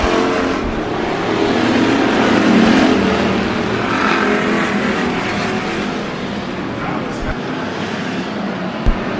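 Race cars on the oval at Bakersfield Speedway, a steady roaring engine drone with swelling passes across the whole stretch, heard from the stands with an announcer talking over it.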